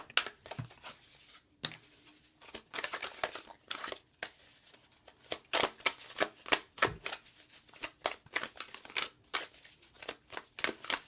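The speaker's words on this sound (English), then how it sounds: "we're going to go ahead and shuffle from this Amenti Oracle deck" Amenti Oracle cards being shuffled close up in repeated bursts of riffling and sliding, with short pauses between each round of shuffling.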